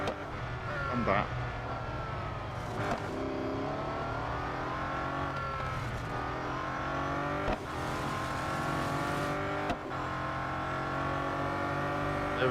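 Several race cars in Real Racing 3 overtaking, with steady, sustained engine drone and shifting revs through a long race, a few sharp whooshes as cars pass, continuous and fairly loud under a commentator's voice.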